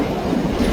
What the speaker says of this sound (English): Train's backing up.